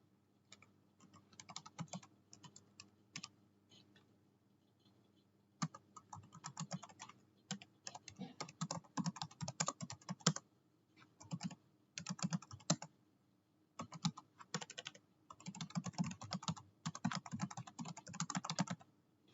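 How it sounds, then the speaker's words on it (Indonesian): Typing on a computer keyboard while entering a paper title, with rapid bursts of close, crisp key clicks separated by short pauses and no talk. "saya akan mengetik judul"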